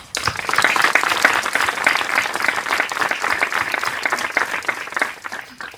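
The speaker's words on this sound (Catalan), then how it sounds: "Un aplaudiment per tots vosaltres." An audience applauds at an outdoor poetry event, Poetes a la Bassa Gran, in 2019. Loud, dense clapping starts abruptly, holds steady for several seconds, then thins out and fades near the end.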